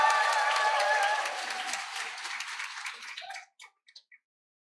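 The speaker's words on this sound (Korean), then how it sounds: "이렇게 기립박수를 쳐주시다니" Standing ovation from a guest-speech audience: dense, sustained clapping fills the room, then thins into a few scattered final claps before falling silent.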